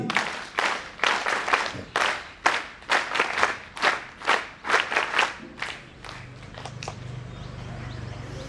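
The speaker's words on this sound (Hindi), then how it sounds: "उनके स्वागत के लिए वीर ताली।" A group at an Arya Veer Dal residential camp claps in a strong, unison rhythm to welcome a guest, about a dozen and a half sharp, close claps over six seconds, then fading into a low murmur.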